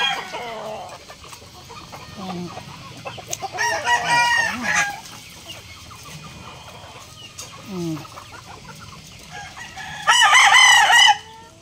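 Native Tagalog chickens raised on a backyard farm cluck and crow repeatedly, nearby and loud. A rooster's crow rises near the end over a busy flock, with no talk.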